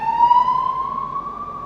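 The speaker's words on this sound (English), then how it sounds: "if you heard the noise in the background, that's an ambulance." An ambulance siren wails steadily at a distance in rural Almería, Spain, its tone slowly rising across the short stretch, with faint background rumble and no talking.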